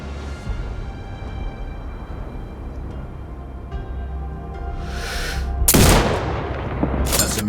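A sniper rifle shot cracks out in the shooter game Sniper Ghost Warrior Contracts 2, one sharp loud report near the end over a low steady hum, followed by a shorter burst, with no voices.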